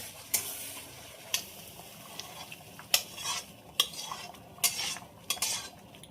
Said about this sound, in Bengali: একটু নেড়ে দেবো মশলাটা দিয়ে।